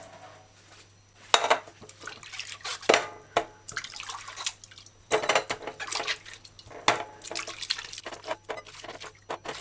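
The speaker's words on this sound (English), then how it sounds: "It's best if you do this part on the fresh running water." Running water splashes unevenly with intermittent clatters and drips as mangoes are rinsed under a tap, close and fairly loud.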